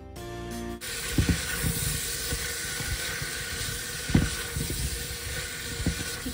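Ginger paste fries in hot oil with salt and turmeric, giving a steady close hiss and sizzle with occasional crackles and light utensil knocks after a brief tonal sound at the start.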